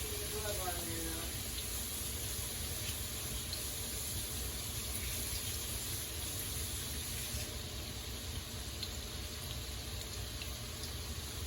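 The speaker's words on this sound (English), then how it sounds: "Rinse off my hand." Steady running tap water pours continuously in a kitchen sink as a gloved hand is rinsed while cooking General Tso's chicken, a close, even rush throughout with a brief voice early on.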